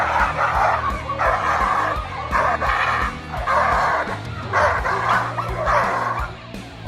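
A Dogo Argentino barks repeatedly in loud, rhythmic bursts while being held back, each bark about a second apart with a steady low background hum throughout.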